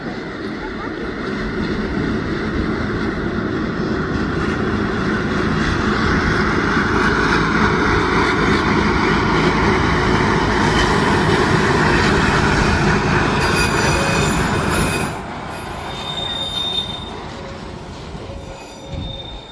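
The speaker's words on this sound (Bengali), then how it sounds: "এই ট্রেনটা আসছে, কি সুন্দর ট্রেন দেখেন" A train rumbles past close by with steady rolling clatter and squealing wheels, a loud continuous roar that eases toward the end.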